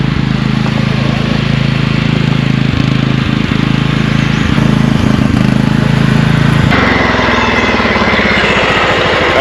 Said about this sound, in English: That's an old tractor.